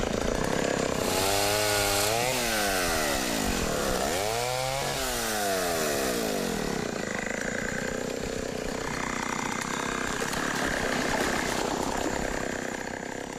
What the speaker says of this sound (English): they keep the chainsaw close at hand